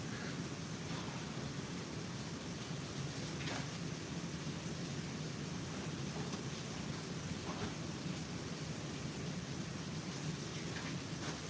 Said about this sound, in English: it's raining pretty hard here, by the way.